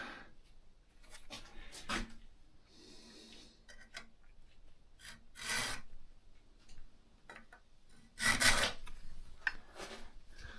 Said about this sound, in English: I think this one should be good to sharpen this blade.